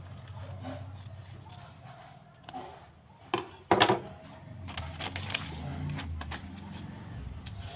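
A paper pattern for a katori blouse is cut by hand, with quiet rustling and scraping, then a few sharp, crisp cuts and crinkles near the middle before softer handling of the paper.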